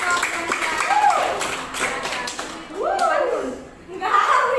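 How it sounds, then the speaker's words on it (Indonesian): A classroom of students clapping for a student group, loose scattered claps mixed with laughter and voices talking over them. "Tepuk tangan untuk kelompok Asor."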